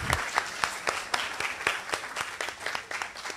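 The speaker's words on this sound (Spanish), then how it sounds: "Un aplauso por nuestro doctor Amoretti" A small conference audience gives a speaker a round of applause, a few people clapping in loose rhythmic bursts, fairly close and without talking.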